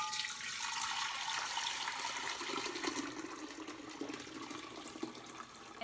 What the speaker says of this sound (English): I'm going to add a half a gallon of filtered water